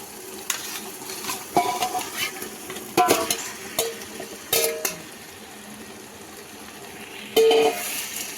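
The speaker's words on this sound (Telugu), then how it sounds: "ఇప్పుడు బాగా ఆయిల్ అంతా పైకి వచ్చేసాక ఇప్పుడు మనం కడిగి పెట్టుకున్న చికెన్ని వేసేసేయాలి దీంట్లో" Chicken pieces frying in hot oil and masala, sizzling steadily while a spoon stirs and scrapes against the pan in several distinct clanks, close and clear with no talking.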